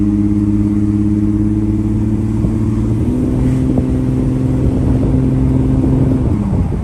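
A 2.5 V6 engine in an Audi A6 C5 drones steadily and close up while the driver tries to downshift. The hum shifts pitch about halfway through and then holds level until it drops away at the end.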